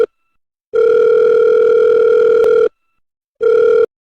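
Telephone ringback tone on an outgoing call: a loud, steady electronic tone about two seconds long, then a pause, then the start of a second ring. No one speaks.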